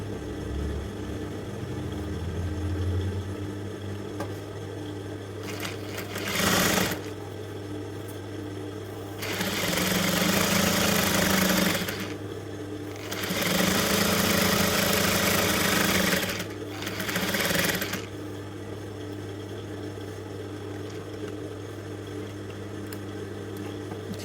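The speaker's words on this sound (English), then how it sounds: "I'm just going to sew one more and I'll finish up" A sewing machine stitches a smocking dress in several short bursts of fast, rattling whirring, separated by pauses, over a constant low electrical hum.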